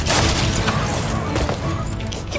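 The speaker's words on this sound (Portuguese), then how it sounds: "Que foi aquela explosão, mano?" A loud, booming explosion in Fortnite bursts at the start and rumbles on with crackling debris, dense and close throughout.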